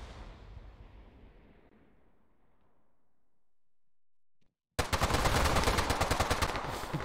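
Rapid automatic gunfire in a competitive capture-the-flag shooter match, a dense burst of shots starting suddenly after a fading rumble and a moment of near silence, close and loud.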